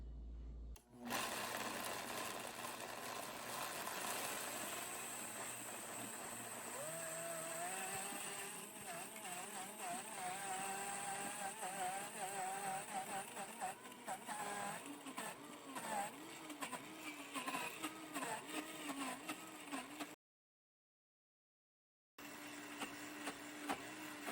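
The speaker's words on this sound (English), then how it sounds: "It takes about 2 minutes to make creamy peanut butter in our Vitamix blender." Loud, continuous whirring drone of a Vitamix blender motor grinding peanuts into thick peanut butter, pitch wavering as it labors, cutting out briefly near the end then resuming.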